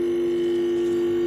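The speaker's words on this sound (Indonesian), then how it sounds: "Dan kompresor terasa bergetar," A refrigerator compressor running and vibrating, a steady loud low hum holding one even pitch throughout, close up and alone.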